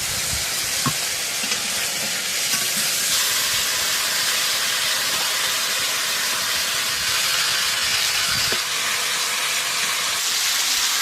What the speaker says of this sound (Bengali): আমি গরম তেলে বিলাতি ফেলে দিই